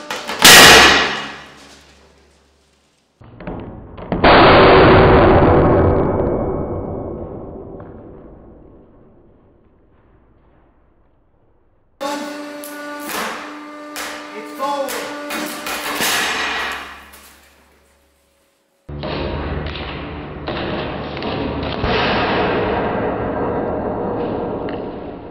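Hydraulic press at 70 tons crushing two stacked books, heard as loud bursts of cracking and grinding with sharp bangs, separated by quiet pauses, then a clanging metallic stretch and a sustained rough crunching near the end.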